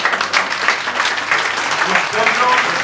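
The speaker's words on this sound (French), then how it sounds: "D'abord, les partis alliés, je vous salue. Où ils sont? Applaudissez-les." A crowd at a Malian political campaign gathering applauds the allied parties with loud, lively clapping. Voices and shouts mix into the clapping close by.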